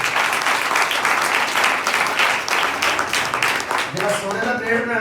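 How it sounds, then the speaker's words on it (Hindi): Loud, sustained applause fills a church during a New Year prayer service, dense clapping from a congregation continuing for several seconds, with a voice briefly audible near the end. "जोरदार तालियां"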